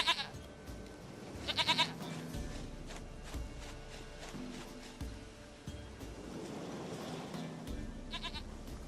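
Goat bleating in The Witcher 3 video game, a few short nasal bleats in quick bursts over a soft ambient game background, fairly faint.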